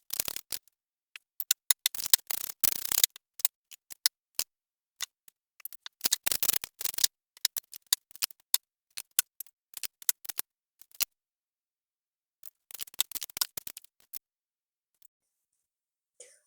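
A deck of tarot cards is shuffled and drawn, with crisp riffling bursts separated by quiet gaps and scattered small ticks and snaps, close by and with no talking.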